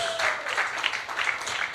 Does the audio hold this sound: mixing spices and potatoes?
no